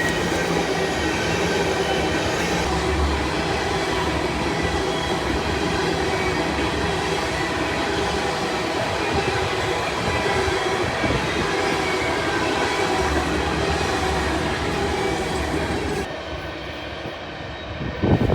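A freight train rolls past on a former New York Central main line, a steady loud rumble of wagons and wheels with some squeal lasting throughout, easing off near the end.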